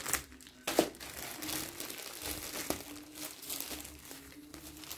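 A new plastic-wrapped package of diapers is torn open, with continuous crinkling and crumpling of the wrapper and a few sharper rips, close and fairly quiet, with no talking.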